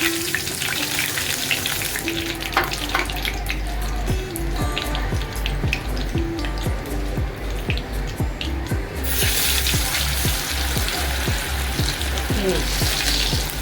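A last piece of masala-coated vada fish frying in oil: dense, continuous sizzling and popping, with rapid bubbling crackle and some rhythmic ticking, loud and close throughout.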